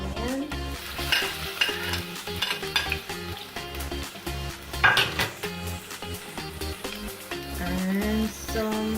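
Potato and onion sizzle in hot oil in a pan while a utensil stirs and scrapes against the metal, producing a steady loud crackle broken by repeated clinks and scraping strokes.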